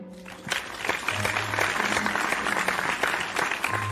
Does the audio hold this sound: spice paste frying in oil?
no